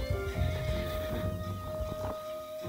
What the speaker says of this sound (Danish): der har vi så alle de heste, man kan købe